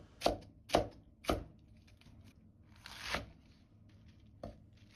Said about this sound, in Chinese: 再把菜幫改刀切成稍微細一點的絲